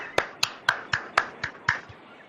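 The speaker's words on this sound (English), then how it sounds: "Applauding for myself." One man clapping for himself, seven sharp, evenly spaced claps close up, alone with no other sound.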